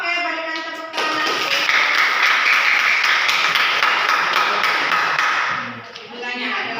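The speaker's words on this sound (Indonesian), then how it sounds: "Oke, berikan tepuk tangan." Students applaud in a high-school history classroom, with sustained, fairly loud clapping that rises quickly, holds for several seconds and then fades, alongside brief talk at the start and end.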